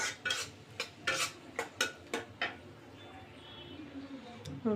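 Onion and garlic go into hot oil in a pan, with several sharp clinks and scrapes of a utensil stirring at a moderate pace, over a faint steady sizzle that lingers near the end.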